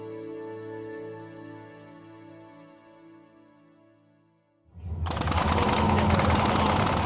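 Rapid machine gun fire from a Navy ship simulator bursts in loud and continuous after a fading tonal hum, rattling on without pause to the end.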